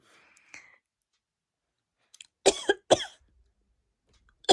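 A mother coughs at close range, with two sharp, loud bursts in quick succession after a faint earlier sound, set against otherwise near silence.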